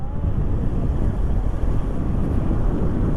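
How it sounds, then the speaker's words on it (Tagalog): Strong wind at a scenic lookout in Barangay Laurel along the Marilaque road, buffeting the microphone as a steady, loud, low roar with no break for the whole stretch. "Mahangin eh no? Mahangin."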